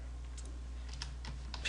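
Light keystrokes on a computer keyboard as a Linux command is entered, a handful of soft, quick clicks in an uneven rhythm over a low steady hum.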